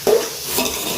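Onions sautéing in a pan for biryani, soft sizzling and frying with a spoon scraping and stirring through them, close and steady.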